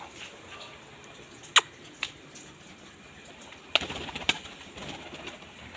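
Blue pigeons give a few soft, brief calls with a couple of sharp nearby sounds and quiet pauses between them.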